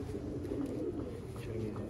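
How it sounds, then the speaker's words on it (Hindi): Sialkoti pigeons of the Sheikh line coo softly in a loft, a low continuous murmur of calls close by with no clear breaks. "सियालकोटी शेखों वाले कबूतर"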